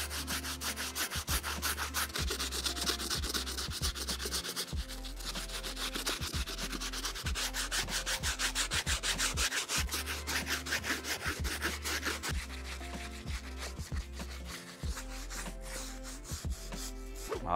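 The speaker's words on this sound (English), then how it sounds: "I'm gonna jump on our stiff bristle brush and really take care of this outsole" A stiff bristle brush scrubs the rubber outsole of a sneaker in quick, rhythmic back-and-forth strokes, close and steady throughout, with no talking.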